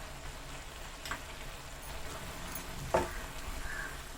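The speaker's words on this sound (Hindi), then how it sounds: "अच्छे से चलाते हुए मैं गाजर को सुखा रही हूँ।" Grated carrots for gajar halwa stirred and dry-roasted in a pan over a full gas flame, a steady soft sizzle with a couple of louder scraping strokes.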